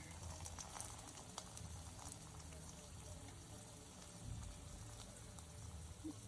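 Food frying in hot oil in a home kitchen gives off a steady, close crackling sizzle with scattered sharp pops, continuous throughout and without talk.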